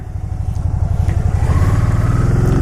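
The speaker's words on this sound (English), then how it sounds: "when it downshifts, it revs it up" A Can-Am Spyder ST-S three-wheel motorcycle's engine revs up sharply as it downshifts, a close, loud, steady rising drone with pulsing low rumble that climbs in pitch and stays strong throughout.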